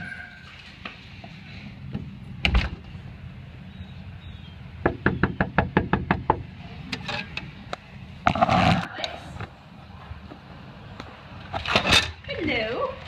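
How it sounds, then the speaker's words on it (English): Knuckles rap on a door during door-manners training with a yellow Labrador puppy: scattered single knocks, then a quick run of about a dozen sharp raps, with people talking around them. "I'm gonna knock on the door"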